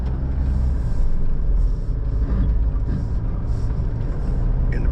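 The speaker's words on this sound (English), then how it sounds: "It's just spinning the wheels too much, I think." A 2025 Mazda BT-50 ute spins its wheels and loses traction while climbing a dirt mound, with a loud, steady engine roar and gritty rumble throughout and no break in the sound.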